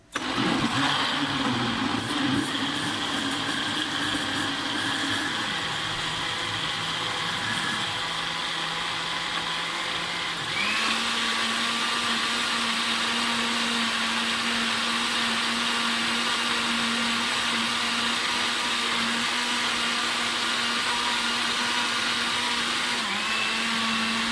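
A blender grinds boiled tomatoes into paste, a loud continuous motor whir that holds steady for the whole stretch, shifting pitch partway through as the load changes, with no talking over it.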